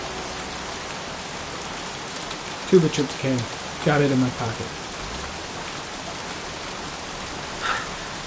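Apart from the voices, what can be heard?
heavy rain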